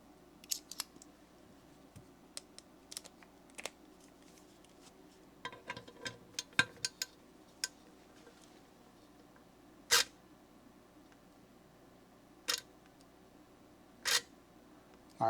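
A VESSEL 400ER electric ratchet with a 0.7 Newton meter torque limiter gives sparse, sharp clicks, single and in small clusters, against quiet near-silence.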